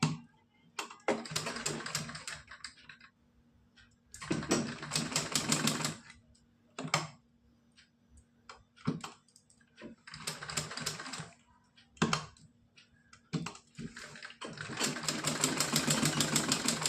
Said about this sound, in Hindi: यहाँ से घुमाते हुए लगाएंगे सिलाई।